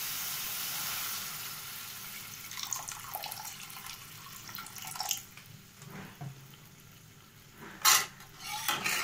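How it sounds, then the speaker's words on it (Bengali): Water splashes and pours into a pan of boal fish curry, a soft continuous wash with light metallic clinks and a brief sharper splash near the end. "এবারে জল ঢেলে দেব"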